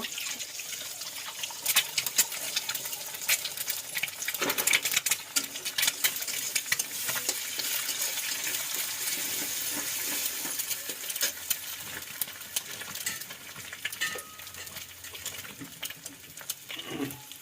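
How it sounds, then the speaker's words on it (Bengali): An egg fries in oil in a pan while pasta is being cooked at home. It gives a dense, constant sizzle with crackles and scattered sharp pops, fairly quiet and close, with no talking. "এবার ডিমটাকে ভেজে নেব।"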